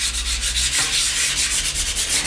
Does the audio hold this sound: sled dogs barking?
no